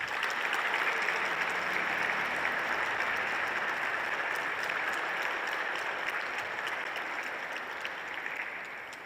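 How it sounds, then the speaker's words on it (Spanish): An audience at a church conference applauds to welcome a bishop, a sustained, full sheet of clapping from many people filling the hall, even and strong before easing slightly near the end. "Vamos a recibirlo con un fuerte aplauso."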